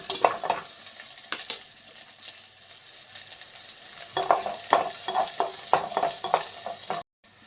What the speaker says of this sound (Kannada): ಸಾಸಿವೆ, ಈರುಳ್ಳಿ, ಒಣಮೆಣಸಿನ್ಕಾಯಿ, ಕರ್ಬೇವಿನ ಸೊಪ್ಪು ಇದಿಷ್ಟು ಹಾಕಿ ಚೆನ್ನಾಗಿ ಫ್ರೈ ಮಾಡ್ಕೋಬೇಕು.